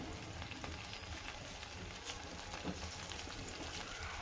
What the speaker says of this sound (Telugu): ఇప్పుడు పుదీనా కొత్తిమీర కొంచెం వేగింది